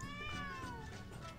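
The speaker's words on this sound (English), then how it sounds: "He's a kitty." A cartoon cat meows in the video game 1Bit Heart, a single drawn-out mew with a gliding pitch, close and clear over a steady bed of game music.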